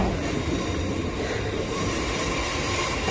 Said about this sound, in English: we're taking a train